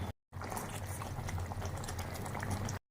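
Prawns drop into a simmering yogurt and cashew curd gravy, giving a steady bubbling sizzle that stays close and even for a few seconds after a brief silence.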